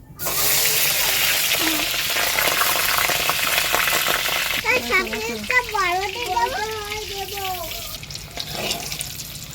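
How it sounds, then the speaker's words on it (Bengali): Eggs frying in a pan make a loud, steady, close sizzling hiss throughout, while a person talks over it partway through. "ডিম ভাজবো"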